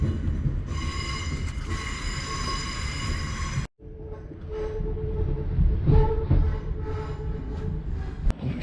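Passenger train on a branch line to Neilston pulling away and running over the rails, a steady loud rumble with wheel squeal and a brief dropout partway through; no talking.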